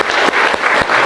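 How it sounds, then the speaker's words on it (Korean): A crowd at a cargo truckers' union general meeting in Jeonbuk gives loud, close applause, with a few strong rhythmic beats punching through the continuous clapping. "본부장 동지와 사업국장 오산솔 동지께 큰 박수 부탁드리겠습니다."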